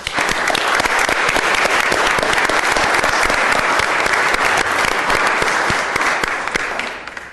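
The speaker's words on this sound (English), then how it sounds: "Let me just ask if we can give a round of applause for Amy Meyer" Steady, dense applause fills a San Francisco Board of Supervisors chamber on Earth Day, an even wash of many clapping hands that holds loud throughout and tapers slightly at the end.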